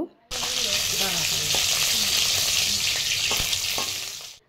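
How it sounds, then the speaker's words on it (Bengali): A small hilsa fish head fries in hot oil in a kadai for a kochu shak dish, giving a loud, steady sizzle from start to finish, with a few faint utensil clinks and no talking. "এখানে একটা ছোট ইলিশ মাছের মাথা আমি ভেজে নেব"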